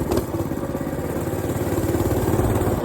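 A motorcycle engine runs with a steady, rumbling idle and slight revving swells, close and loud throughout.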